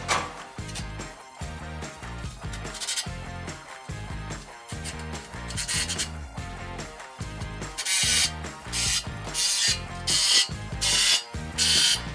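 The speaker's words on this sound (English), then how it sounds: "Then we can go ahead and finish off putting the rest of the other ones in." A ratchet wrench tightens bolts on a steel front bumper of a 2016-2022 Toyota Tacoma, giving steady rapid clicking strokes in repeated bursts, close and clear with no talking.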